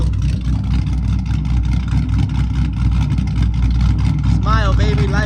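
A car engine, recently blown up and running rich with oil still in the exhaust, drones steadily on a dyno at high load, loud and continuous, with a voice briefly audible near the end.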